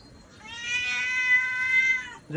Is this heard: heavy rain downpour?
no